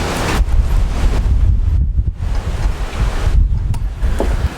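Strong gusts roar across an outdoor lawn-renovation site, buffeting the microphone in heavy rumbling waves that briefly ease and then surge again, with no voices.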